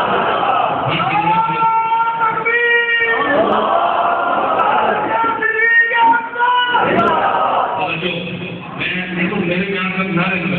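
Large crowd at an outdoor sermon gathering in a market in Dera Ismail Khan chanting slogans loudly in unison, voices rising and falling in sustained shouted phrases, dense and close throughout.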